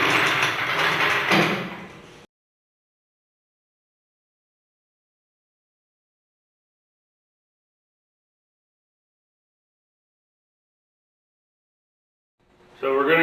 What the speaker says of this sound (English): I'm just going to jack it up real quick to make it easier to get underneath it